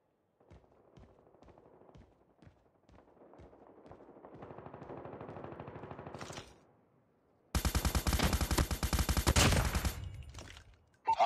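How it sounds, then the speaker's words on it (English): Automated sentry gun in the mobile shooter Call of Duty Mobile, with scattered single shots at first, then a steady rattle of fire and a loud, dense sustained burst of machine-gun fire near the end. "Friendly sentry gun deployed."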